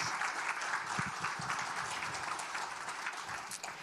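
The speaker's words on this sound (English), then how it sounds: "A round of applause for the graduates." An audience applauds graduates at an adult basic education graduation ceremony: steady, dense clapping sustained at an even level throughout, with no one speaking over it.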